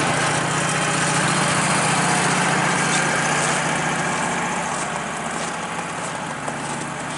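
A Woodmizer LT15 sawmill engine running in below-zero cold, a loud, steady droning roar that holds nearly constant throughout, easing only slightly near the end.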